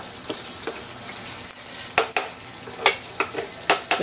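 Chicken curry bubbling and sizzling in a pot, a steady close crackle broken by sharper pops and spits as the sauce thickens and nearly dries, with no voices.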